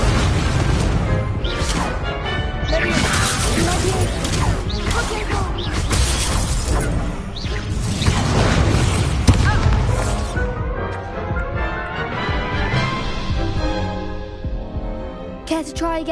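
Hogwarts Legacy's Confringo fire spell bursts in a long, loud stretch of booming explosions and crashing, shattering impacts, dense and continuous before easing off toward the end.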